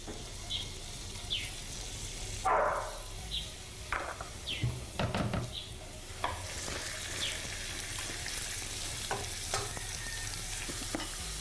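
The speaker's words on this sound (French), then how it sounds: "Je vais verser un peu mon huile de palme. Les oignons." Onions frying in palm oil in a pan, a steady sizzle running throughout with scattered stirring scrapes and occasional clinks, close and fairly loud.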